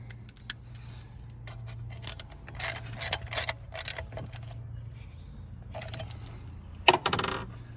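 A plastic thermostat housing on a Jeep Grand Cherokee is tightened with a ratchet, giving bursts of sharp metallic clicking in short runs with pauses between, close and fairly quiet.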